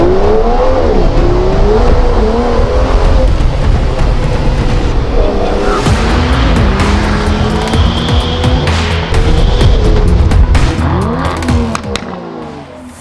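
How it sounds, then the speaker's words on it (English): A 2022 Aston Martin DBS engine accelerates while driving, loud and close, with repeated rising revs and gear-change dips before the sound eases off at the end. "driving a car such as the Aston Martin DBS, especially in a color called Skyfall Silver"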